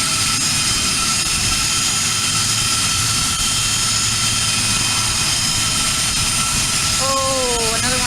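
An aircraft takes off at Aurora Municipal Airport (KARR), a steady broadband engine roar held at a distance for the whole stretch, with a brief rising and falling tonal sweep near the end.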